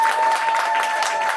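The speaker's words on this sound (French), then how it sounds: "nous pouvons applaudir M. Landry" Guests at a wedding applaud a man being honored, with brief, fairly loud clapping from a small crowd and a steady tone sustained beneath it.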